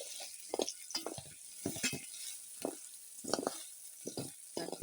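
Grated carrot and onion frying in a pan, a soft close sizzle with irregular scraping and stirring clicks throughout.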